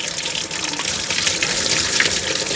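Water draining from the cooling system of a 1978 Yanmar YM1700 tractor, a continuous splashing gush that stays loud and even throughout, with no talking.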